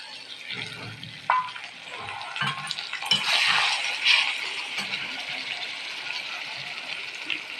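Food sizzles in a pan with a steady hiss, broken by occasional clinks and stirring scrapes from a utensil.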